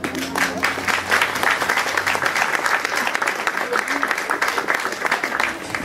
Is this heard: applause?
yes